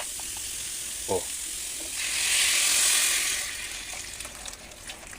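Water poured into a hot cooking pan for a Filipino dish of labong, saluyot and fried tinapa bursts into a loud hissing sizzle that swells and then fades, with a brief voice exclamation just before.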